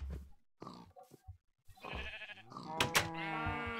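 Minecraft cows lowing in a blocky farm pen, several short grunting moos overlapping in a busy cluster, close and fairly loud, with other game animal noises mixed in.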